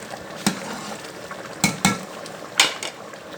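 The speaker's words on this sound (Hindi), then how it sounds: "अब डालेंगे इसमें गाजरें। ये देखिए, इसको कर देंगे अच्छी तरीके से मिक्स।" A spoon stirs carrots into rice in a pan, scraping and clinking against the metal in a few distinct strokes under a low background hiss.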